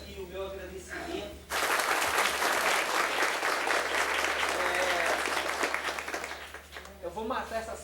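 An audience at a Good Friday gathering bursts into loud, sustained applause that lasts several seconds and then tapers off. Someone speaks briefly before and after the clapping.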